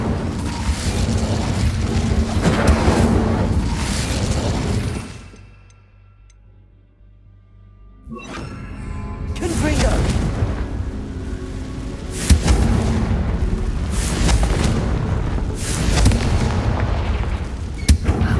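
Fire spells cast in the Hogwarts Legacy video game burst out as loud, booming blasts in rapid succession, broken by a few seconds of near silence before the barrage resumes, with no talking.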